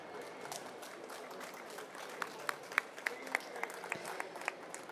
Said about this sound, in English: please honor our panelists with a round of applause